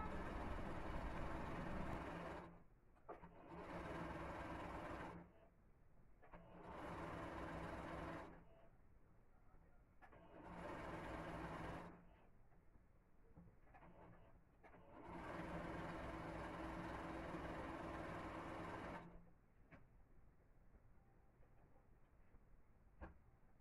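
A sewing machine stitches kimono fabric in five steady mechanical runs of varying length, separated by short pauses, close and fairly loud with no talking.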